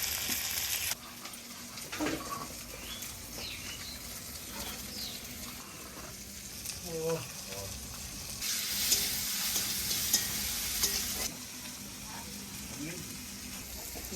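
Chopped tomatoes added to well-fried onions in a pot for a home-style duck curry, producing a continuous sizzle with stirring scrapes and a louder hissing surge partway through, with faint background sounds around it.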